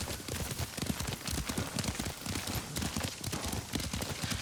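Horse hooves clip-clop at a steady riding pace in the video game Ghost of Tsushima, a dense rhythmic run of close hoof strikes over continuous outdoor noise, with no talk.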